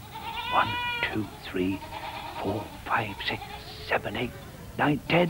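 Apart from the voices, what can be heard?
billy goat bleating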